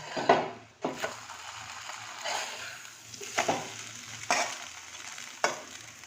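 Vegetable snack frying in butter and oil on a pan, a quiet crackling sizzle broken by several sharp scraping knocks of a spatula turning it, close and without talk.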